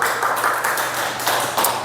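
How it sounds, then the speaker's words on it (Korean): Applause from a church youth service congregation, a steady dense patter of many hands clapping together at close range, holding even throughout with no voices standing out. "박수."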